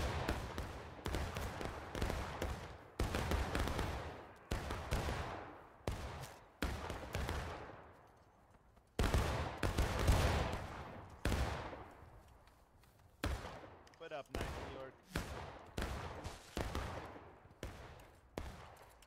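Musket volleys in the Civil War game War of Rights crack out again and again, sharp loud reports in quick irregular bursts with brief gaps between, some shots ringing and echoing out.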